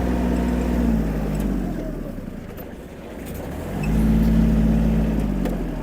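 A Kubota GL-320 Japanese mini tractor drives and turns, its small engine humming steadily, dipping, then rising again as it moves, with a voice talking over it.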